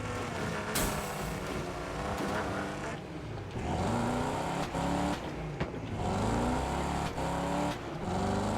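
Race cars in the Wreckfest 2 online racing game, engines droning and shifting pitch as they rev and accelerate, with sharp crash impacts scattered throughout, steady and fairly close.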